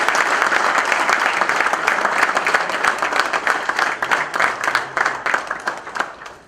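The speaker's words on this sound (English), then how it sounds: "Ladies and gentlemen, a big round of applause." An audience at a corporate T20 cricket league award ceremony applauds, loud and full at first. It then breaks into more distinct claps as it thins and fades out, with no talking.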